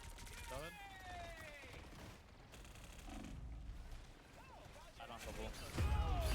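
Enemy gunfire in the video game Marvel Rivals rattles in quick bursts mixed with whooshing ability effects and a heavy thump at the end, fairly faint beneath someone talking.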